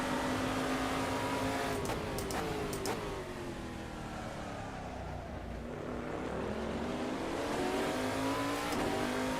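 In the sim racing game Assetto Corsa, a race car's engine drones loudly and continuously while its worn tyres slide across the track, with a few brief sharp clicks.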